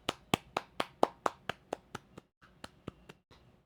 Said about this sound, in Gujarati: તાળી પાડ દો હાલો ફટાફટ